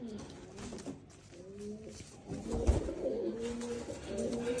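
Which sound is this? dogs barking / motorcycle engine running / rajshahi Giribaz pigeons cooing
rajshahi Giribaz pigeons cooing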